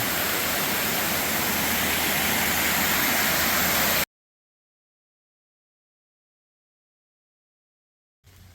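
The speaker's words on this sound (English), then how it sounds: "Now some more of the waterfalls that comes down the mountain." A mountain waterfall on the Appalachian Trail in New Hampshire rushes as a loud, dense, steady roar, then cuts off abruptly to silence partway through before a brief return at the end.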